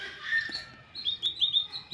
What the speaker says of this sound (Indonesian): seperti ini ya perkembangan anakan burung kenari ya